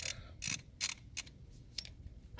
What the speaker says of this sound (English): Probably use an impact or a socket just to wrench it through.